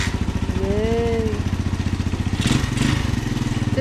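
A manual motorcycle engine starts and settles into a steady, loud idle up close, with a brief whistle-like tone early on and some clattering sounds partway through.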